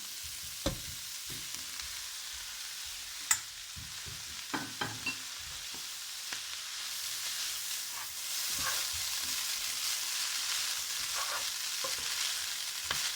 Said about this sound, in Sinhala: මේක මේ විදිහට අපි හොඳට කලවම් කරගමු